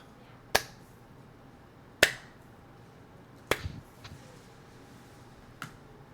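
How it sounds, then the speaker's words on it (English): Four sharp, isolated claps ring out one at a time, spaced over a second apart, slow and deliberate, with quiet between them. "A little bit off in the distance, you begin to hear a clap."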